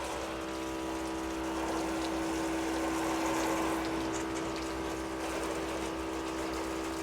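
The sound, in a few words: water rinsing gutters on luxury home garage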